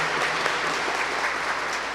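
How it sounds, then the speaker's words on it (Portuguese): A church congregation applauding after the Gospel reading at Mass, a dense steady roar of clapping from many people, loud and sustained throughout. "Podemos aplaudir a palavra de Deus"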